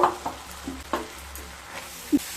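Poppy seed paste being stirred in a pan for Bengali egg posto, a soft sizzle with a few scraping stirs and light clinks, close and fairly quiet.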